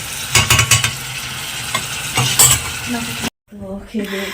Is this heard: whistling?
no